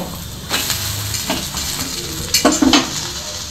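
A flipped omelette for a cheese omelette sandwich fries in a pan with a loud, steady sizzle, broken by a few close scraping and clinking strokes of a spatula, especially toward the end.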